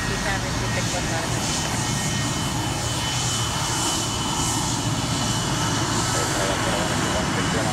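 Continuous loud, broadband roar of jet airliner engines at Atlanta International Airport, a steady wash of rumble and hiss filling the whole stretch without pause, with faint radio chatter mixed in.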